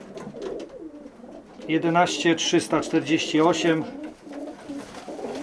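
Young racing pigeons coo softly in a loft among nesting shelves, their murmuring calls running steadily beneath someone talking nearby.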